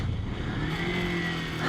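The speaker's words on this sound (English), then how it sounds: "I'm in 6th, now I'm in 5th gear. All right, so we're gonna row down through the gears." Engine of a Kawasaki Versys X 300 motorcycle dropping through the gears on the road, a steady close drone with a shifting pitch under rushing wind.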